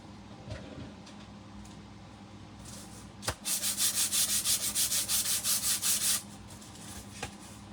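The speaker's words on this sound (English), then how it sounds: "I'm going to sand this a little bit." Sanding a wooden Christmas tree farm sign: about three seconds of quick, rhythmic back-and-forth rasping strokes, close and fairly loud, after a single sharp knock, with quiet room tone on either side.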